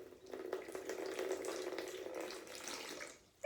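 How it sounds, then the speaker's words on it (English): Water pours steadily from a jug into a rice cooker pot for about three seconds, a continuous splashing gush that stops abruptly near the end. "Let's hear the sound of the water pouring into my rice cooker."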